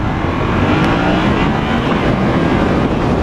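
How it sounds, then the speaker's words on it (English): A 2015 Yamaha FZ07 motorcycle accelerating hard in second gear, its engine roar loud and close amid steady wind rush, continuous with no talk. "Just getting on the throttle right there in second gear, that tire lifted up on me."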